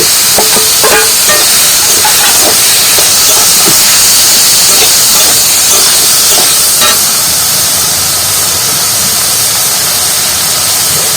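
Fried potatoes hit a hot pan of spiced papaya-tree cooking, giving a loud, continuous close sizzle with scattered crackles that holds steady throughout.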